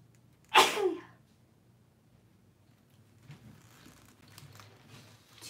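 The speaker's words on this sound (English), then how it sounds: "a sneeze coming." One sharp, loud sneeze bursts out close to the microphone, then fades into quiet with faint rustling and handling noise afterward; no one speaks.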